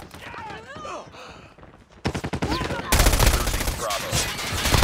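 Rapid automatic fire from the ISO submachine gun in Call of Duty Mobile, bursts growing denser and louder into a sustained, close stream of shots, with a voice over parts of it.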